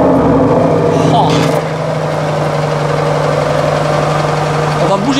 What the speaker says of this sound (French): On va démarrer la RS6.